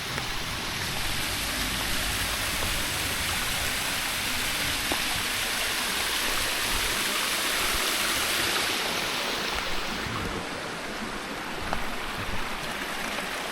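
Dao Duean waterfall at the Wang Nam Khiao campsite, a continuous broad rushing roar of falling water that stays steady and fairly loud for the whole stretch, with no voices.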